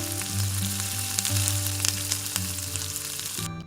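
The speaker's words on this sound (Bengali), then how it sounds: "খুব ভালো করে মশলাটাকে কষিয়ে নেব যতক্ষণ না তেল ছেড়ে দিচ্ছে" Close, loud sizzling of spice paste frying in hot oil until the oil separates, with a low steady hum running underneath throughout.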